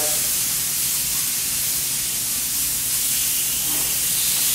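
Pieces of meat sear in a hot pan, a loud, continuous close-up hiss of spitting fat that holds steady without a break.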